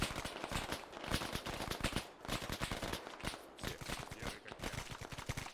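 Arma 3 combat gunfire during a Soviet coup scenario: dense, rapid automatic bursts and sharp shots crackle almost continuously at close range, loud and alone, with no talk over them.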